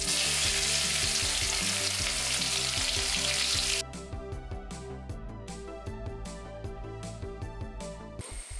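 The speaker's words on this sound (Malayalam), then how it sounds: "ഇഞ്ചി വറുത്ത അതേ എണ്ണയിൽ തന്നെ ഇട്ട് നമുക്ക് കടുക് വറുത്തെടുക്കാം." Mustard seeds fry in ginger-flavoured oil, a loud dense sizzle that runs steady for about four seconds, then thins into sparser crackles and pops for the rest of the clip, with no talk.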